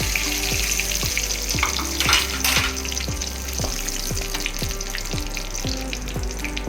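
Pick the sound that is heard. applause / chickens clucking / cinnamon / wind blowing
cinnamon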